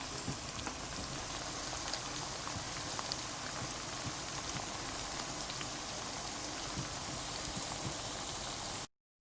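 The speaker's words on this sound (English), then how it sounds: "Just going to let it saute a little bit, that the onions will cook a little bit." Onions sizzle steadily in a hot pan for a Bajan saltfish dish, a dense, even crackle of frying that holds continuously close up before cutting off abruptly at the end.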